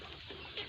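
Chickens in a netted free-range run cluck softly in a short, low-level burst, with a slightly louder cluck near the end and no talk.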